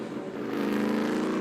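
A race car at Virginia International Raceway (VIR) during an SVRA vintage racing session, its engine note steady and loud as it drives past, holding a sustained tone from start to finish.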